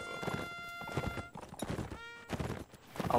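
Horse hooves clip-clop in a real-time strategy line battle game, a quick run of soft, close hoofbeats with a faint whinny-like tone over the rhythm.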